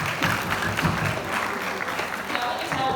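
An audience applauds steadily throughout, a dense wash of clapping with a voice speaking over it.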